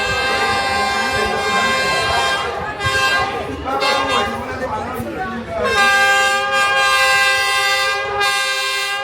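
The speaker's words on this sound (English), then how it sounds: "Here comes the train." Train approaching along Hanoi's Train Street through a narrow residential lane, loud and close, with a long, piercing horn blast over rumbling wheels, the horn swelling again near the end while voices chatter nearby.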